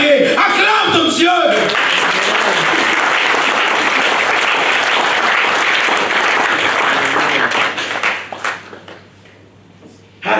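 A church congregation bursts into loud sustained applause and cheering acclaim for God, with voices rising over the clapping before it fades out near the end.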